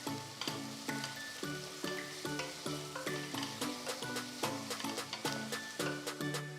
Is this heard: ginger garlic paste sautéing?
yes